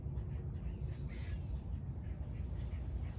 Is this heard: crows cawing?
yes